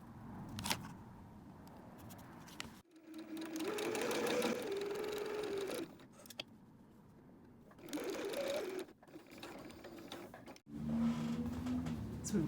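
A sewing machine sews darts on a quilted bowl cozy in several separate runs, each a close, steady mechanical whir, with quiet pauses between them.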